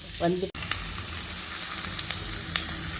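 Curry leaves and other ingredients for tomato kurma sauté in a hot pan, giving a bright continuous sizzle with faint stirring clicks after a brief pause at the start.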